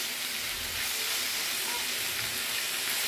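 Young papaya leaves with dried rebon shrimp stirred in a hot pan, giving a steady, close sizzling hiss throughout with no talking.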